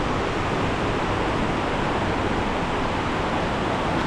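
A strong river current rushes past, a dense, constant roar of flowing water that stays steady and loud throughout.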